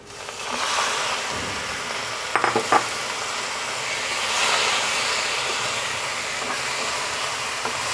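Chicken pieces go into hot oil with fried spices for a bamboo shoot curry, giving a loud, continuous sizzle and hiss with a few sharp stirring clatters.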